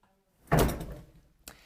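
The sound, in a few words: safe door opening with SECURAM ProLogic lock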